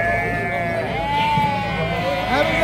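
Lambs bleating at a sheep market in Beyləqan, several overlapping wavering calls close by, mixed with people talking nearby.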